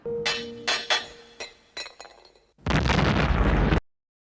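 A few sharp clinks and knocks, then a loud roaring movie explosion from Batman (1989) that bursts in and holds for about a second before cutting off.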